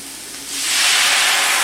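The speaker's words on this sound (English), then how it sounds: "little shot of wine just to finish them up, kind of steam them" A splash of wine hits a hot pan of jumbo prawns, bursting into a loud rushing hiss of steam that swells after a quieter moment and holds steady.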